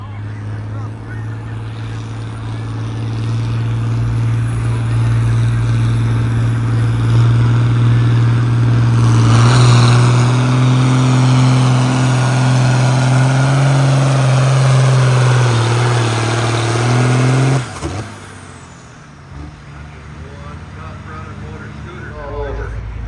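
A John Deere 4440 open-station tractor roars loud and steady at a tractor pull, rising into a harder, higher-revving pull midway before cutting off abruptly near the end, with crowd and announcer noise around it.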